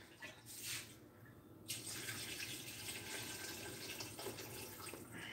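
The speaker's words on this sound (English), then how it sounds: "I just added a little bit of water to get the gelatinous gunk from the broth off the bottom of the pot" Tap water runs into a cooking pot of broth, a steady splashing stream that starts faintly and then becomes a fuller, continuous pour, close by and with no talk.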